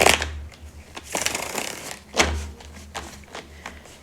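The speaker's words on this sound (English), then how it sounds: "Let me give this a good shuffle." Tarot cards being shuffled by hand in a close, dry riffle and rustle, broken by soft thumps and taps as the deck is handled, with no talking.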